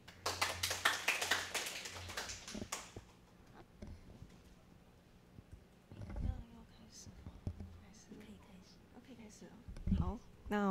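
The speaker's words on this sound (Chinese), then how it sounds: "那我们先掌声欢迎一下讲者" At a Ruby on Rails tech talk, the audience gives a brief burst of dense, loud clapping that fades after a few seconds, followed by quieter room noise, thumps and voices.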